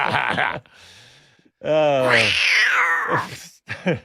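A cartoonish cat noise effect triggered from a button bank during a motorsport talk show, a drawn-out yowling meow rising and falling for about a second and a half, with voices talking before and after it.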